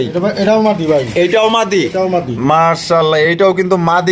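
Indonesian pigeons coo loudly and repeatedly up close, agitated, overlapping throaty rolling calls in quick succession with no pause between them.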